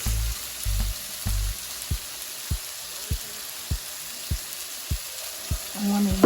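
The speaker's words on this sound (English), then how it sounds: "Now I'm going to add in a little of our soy sauce" Soy sauce goes into a veggie stir fry with toasted sesame oil, and the pan keeps up a steady sizzle under a series of evenly spaced soft knocks, with a few brief low bursts at the start and a louder rise at the end.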